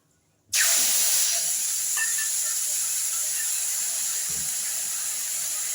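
Bottle gourd is dropped into hot spiced oil in a pan and bursts into a loud, sudden sizzle that keeps hissing steadily and eases only slightly.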